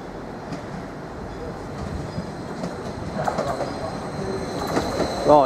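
Class 755 unit arriving at Ely Station, bound for Stansted Airport, with a steady rumble of approaching wheels building over several seconds and a high squeal of wheels and brakes rising near the end.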